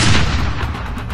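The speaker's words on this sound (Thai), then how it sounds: "ทันใดนั้นเสียงปืนดังสนั่นในความเงียบของป่าก็ดังขึ้น" A single loud gunshot booms up close in a silent forest and rolls off into a fading echo.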